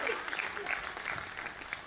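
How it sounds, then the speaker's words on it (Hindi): Audience applause at a Hindi poetry stage event, fairly faint and scattered, with some individual claps standing out against a soft background and faint voices. "ताली बजाइए"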